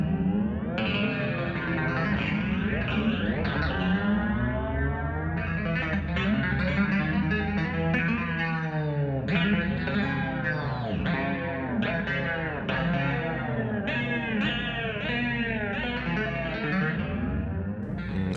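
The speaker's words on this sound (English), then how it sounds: "moving the whammy bar, so creating waves in the pitches and in the sound" An electric guitar played through effects, with the whammy bar bending and warping its pitch into waves. It is a continuous, loud, layered tone with echo and distortion, heard alone with no talking.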